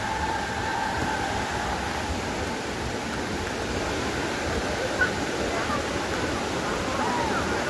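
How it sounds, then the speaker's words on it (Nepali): Najiko Yarta Pokhali waterfall, a steady, dense rushing roar of falling water that fills the whole stretch without pause, fairly close. "झरना चाहिँ अब यता भइहाल्यो।"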